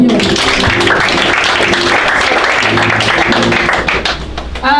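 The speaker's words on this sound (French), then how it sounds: "On acclame pour le Seigneur" At a French-speaking church revival service, the congregation claps for the Lord over a background of music, a steady mass of applause that fades near the end.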